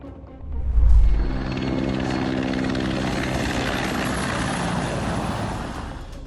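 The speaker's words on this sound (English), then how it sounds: "Have you ever seen a low-flying helicopter like that?" A helicopter roars close overhead, its rotor thumping loudly at first, then settling into a steady, heavy whir that fills the whole stretch.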